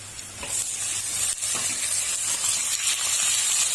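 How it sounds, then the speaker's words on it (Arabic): Meat sizzling as it goes into a hot pot for Egyptian-style beef shawarma, a steady loud hiss and crackle that stays continuous throughout, close and alone with no talking. "وهنزل بقى باللحمه"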